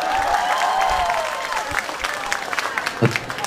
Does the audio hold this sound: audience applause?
yes